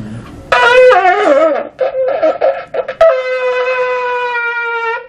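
A shofar blast for a tekiah begins sputtering and uneven, with broken airy bursts, then settles into a steady, sustained bright tone.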